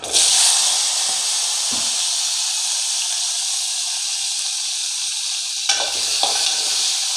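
Tomatoes drop into hot oil in a pan and sizzle with a loud, steady frying hiss, broken by a couple of brief stirring scrapes and clanks.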